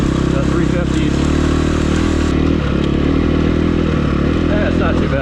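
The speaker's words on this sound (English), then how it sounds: "Such a hyper engine, the 350s." A Suzuki DR-Z400S dual-sport motorcycle ridden through the desert, its engine droning loud and close at a steady pitch with wind rush and chassis rattle throughout, no voices over it.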